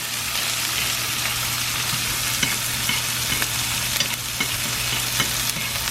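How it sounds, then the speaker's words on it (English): Butter and garlic sizzle in a hot pan with steak, a loud, steady frying hiss with occasional soft scrapes and taps of a spoon over a low hum. "And now we'll add our butter and garlic into the pan."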